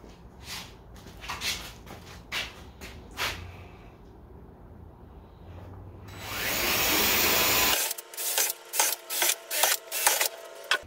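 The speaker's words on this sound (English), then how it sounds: "Drill some holes to run some zip ties through." A drill runs in one long sustained burst, drilling holes in a plastic bucket, preceded and followed by rhythmic knocking and handling sounds nearby.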